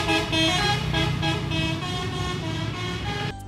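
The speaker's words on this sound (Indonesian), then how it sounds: "Ada orang-orang yang masih suka ngelakson." Car horns honking in busy street traffic, with long steady blasts over engine rumble from cars and buses, loud and close, cutting off abruptly near the end.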